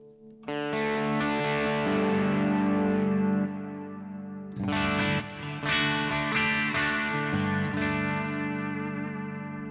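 Electric guitar through a modeled Princeton Reverb amp with a clean, reverb-rich sound: ringing strummed chords sustain and decay, then a brighter passage with picked notes, no talking.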